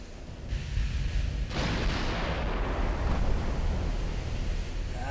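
15-inch naval guns firing in the Ultimate Admiral Dreadnoughts naval battle game, a heavy boom that swells into a long, continuous rumbling roar, loud and sustained without voices.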